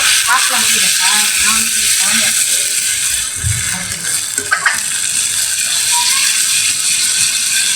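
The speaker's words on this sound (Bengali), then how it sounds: "এখন আদা রসুন দিয়ে আরো কিছুক্ষণ ভেজে নিব।" Ginger and garlic fry with onion in a pan, giving a steady loud sizzle and crackle throughout, with faint voices in the background.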